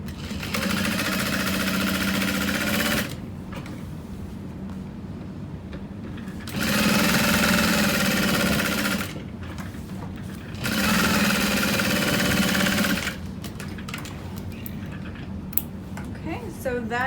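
A sewing machine bastes the layers of a handbag's magnetic V-shaped exterior front pocket, running in three steady stitching bursts of a few seconds each, separated by quieter pauses with handling noise.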